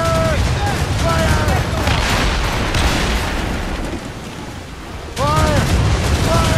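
Cannon fire thunders through a naval battle in Assassin's Creed Rogue, a dense continuous barrage of booming shots with shouted voices over it, swelling louder near the end.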